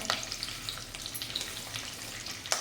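Curry leaves and mustard seeds frying in hot oil, giving a steady close sizzle with a few sharp crackles and pops, no voices.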